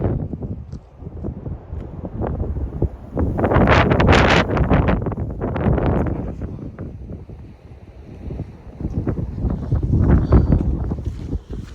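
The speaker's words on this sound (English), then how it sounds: "I just want you to see how windy this is." Strong wind on the Appalachian Trail buffets the microphone in loud, roaring gusts that rise and fall, with no voices heard.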